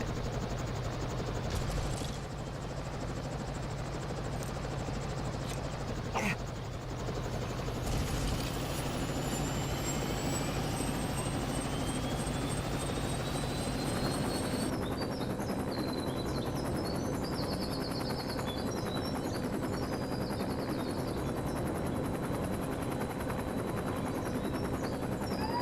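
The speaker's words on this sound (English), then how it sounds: "Now I'm going to fly the Skybringer to the airport. The Skybringer is from the Heavy Lift helicopter kit." Skybringer heavy-lift helicopter flying in LEGO City Undercover, a steady rotor and engine drone running continuously, with game tones and chirps layered on top partway through.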